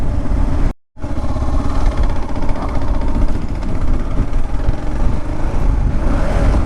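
A Kawasaki KLR650 motorcycle engine runs loud and close, a steady throbbing rumble that cuts out briefly near the start and then carries on unbroken.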